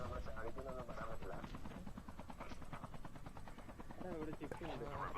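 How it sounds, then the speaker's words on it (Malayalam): A helicopter flies during an airdrop in a video game, its rotor making a continuous, fast pulsing thump beneath steady talking voices throughout. "അപ്പൊ ഇതാണ് നമ്മുടെ ഹെലികോപ്റ്റർ."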